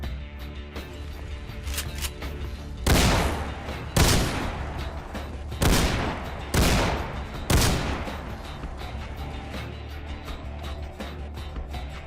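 A modded weapon in Fallout 4 fires five heavy, sharp gunshots, spaced roughly a second apart, each loud blast with a short decay over a low, steady game-ambience hum.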